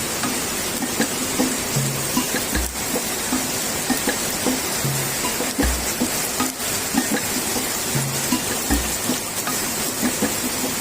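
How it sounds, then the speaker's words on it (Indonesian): Rain falls during a flash flood, starting to ease, as a steady, dense hiss of drops that stays fairly loud throughout, with no talk. "Nih mulai reda nih hujan."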